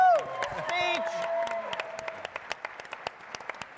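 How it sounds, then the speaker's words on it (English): A crowd at a photographic competition finale breaks into applause that quickly thins to scattered individual claps, with a voice calling out briefly at the start. "if I could get a round of applause for him, I would really appreciate it"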